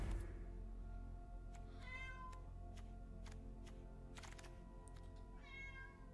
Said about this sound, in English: it's time for my cat to meow